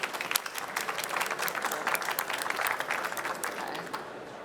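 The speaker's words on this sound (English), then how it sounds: "Let's give them another round of applause." A conference audience at Google Cloud Next '18 applauds, a dense crackle of many hands clapping at once that builds, holds steady and starts to fade toward the end.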